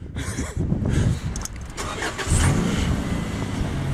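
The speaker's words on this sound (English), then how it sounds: "I want you guys to show or see Nate's new car with VTEC" A car with VTEC cranks and fires up, its engine catching and revving in short bursts outdoors in strong wind, fairly close and moderately loud.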